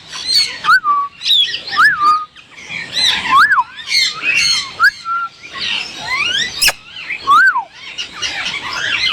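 A rose-ringed parakeet calling repeatedly up close, loud harsh squawks and shrill rising-falling shrieks in quick irregular bursts, with other birds chirping in the background.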